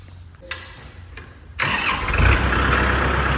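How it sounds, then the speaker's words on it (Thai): A Kubota L4708 farm tractor engine cranks briefly, catches, and settles into a loud, steady diesel rumble nearby. "ไปฟังเสียงเครื่องกันเลยครับ"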